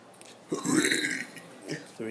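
A person burps once, a loud, drawn-out belch lasting nearly a second, followed by a short second croak and a brief voice at the end.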